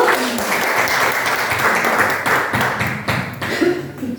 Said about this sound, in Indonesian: Puji Tuhan, boleh berikan tepuk tangan dulu.